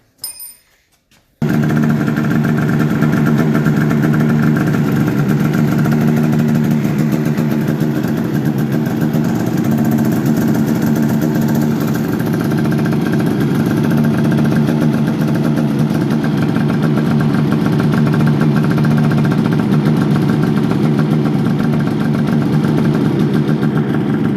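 A Polaris RMK turbo snowmobile engine fires up after a brief start and settles into a loud, steady idle with a continuous rattling drone close by, no talk over it.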